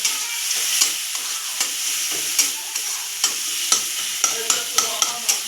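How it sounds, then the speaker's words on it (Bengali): Oil with turmeric frying in a pan for hilsa with eggplant, a continuous close sizzle broken by regular spatula scrapes and taps roughly every half second. "সামান্য হলুদও দিয়ে দিচ্ছি এবার আমি ভালো করে তেলটাকে ভেজে নেবো"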